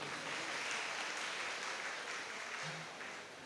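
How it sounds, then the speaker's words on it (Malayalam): Audience applause for three scholarship winners standing up at a community union event, a steady wash of clapping from a crowd that holds evenly and fades slightly at the end. "നല്ലൊരു കയ്യടി കൊടുക്കുക."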